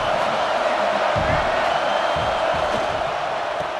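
Home crowd roaring in an EA Sports College Football 26 game, a steady dense wash of stadium noise with swelling cheers and whoops throughout, loud and continuous.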